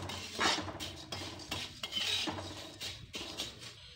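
Flattened rice with salt is tossed in a pan, giving close, rhythmic scraping and clinking of a utensil against metal in repeated strokes, with no voices.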